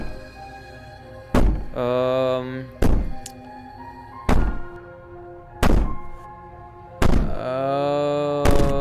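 Heavy thuds ring out as a door is banged on repeatedly in the video game Slay the Princess, six loud booming knocks spaced a second or so apart with a lingering hum between them.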